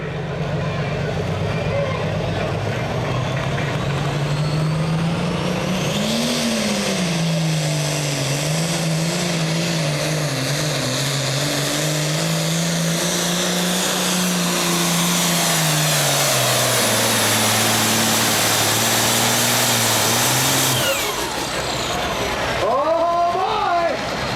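Badger State regular pulling tractors roar at a tractor pull, a loud, sustained engine drone with slowly rising and falling pitch that cuts off near the end, under an announcer's commentary.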